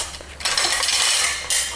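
Tuna and mayonnaise mixed in a dish for a sushi bake, a utensil scraping and clinking against the bowl in steady bursts close by, with no voices.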